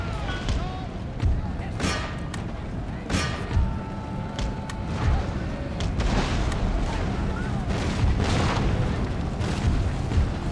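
Cannon fire in an Empire: Total War battle: repeated deep booms and thuds scattered across a dense, continuous battlefield din, with sharp cracks rising above the rumble.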